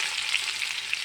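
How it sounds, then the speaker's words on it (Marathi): Garlic fries in hot oil in a pan with cumin and mustard seeds, producing a bright, steady sizzle with small crackling pops, close and continuous for about a second. "त्याच्यानंतर लसण टाकायचं आहे."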